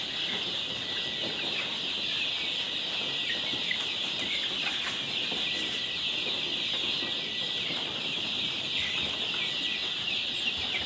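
Pet chicks and chickens clucking and peeping continuously nearby, a busy high chatter of small birds with occasional wing flaps and no talking.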